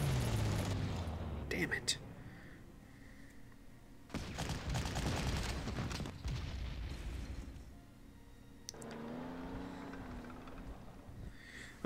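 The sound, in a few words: artillery fire in Panzer Corps video game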